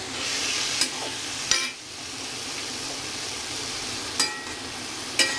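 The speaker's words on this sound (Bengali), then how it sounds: "আমি মূলোগুলো দিয়ে দিয়েছি। আর আমি এটা আর জল দেবো না, এটাকে নেড়ে চেড়ে" Radish pieces get stirred in a pan with no added water, a soft continuous sizzle and scraping punctuated by four sharp clinks of the utensil against the metal.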